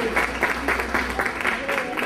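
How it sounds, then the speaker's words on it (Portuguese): A church congregation claps for pastor Claudiana in a brisk, rhythmic burst of applause lasting about two seconds, with a voice speaking over it. "Uma salva de palmas para ela"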